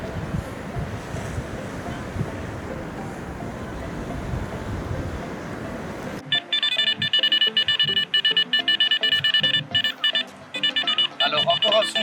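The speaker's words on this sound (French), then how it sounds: "Alors encore un son qui est en surface, double bip" A Garrett Apex metal detector fitted with a Garrett Reaper coil, swept on an Italian beach, gives sharp repeated electronic beeps in the second half, after several seconds of steady surf and wind noise.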